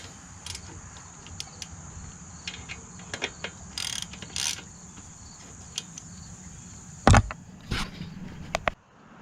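A ratchet clicks in short bursts as the front brake caliper bolts on a Harley-Davidson Sportster are tightened, fairly faint over a steady background hum, with a couple of louder knocks near the end.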